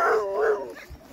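A sled dog lets out two close, loud howls that slide in pitch, then a softer, shorter yip trails off.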